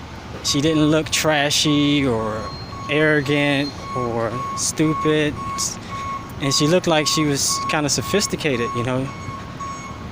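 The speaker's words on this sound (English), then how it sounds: "Sorry about the beeping." Steady, repeated reversing beeps from a vehicle sound throughout, loud and close, while a person talks over them.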